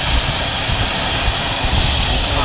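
A jet airliner departing Manchester Airport on the Orlando flight produces a brief, steady loud engine roar with a hissing upper edge, heard alone.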